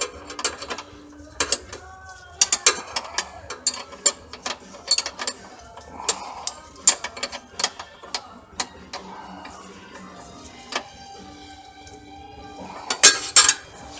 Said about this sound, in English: Something I can just put a backing wrench on. Get it nice and snug.